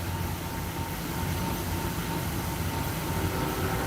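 A train passes nearby, a steady, broad rumbling roar that holds at a constant level throughout, with no voices over it.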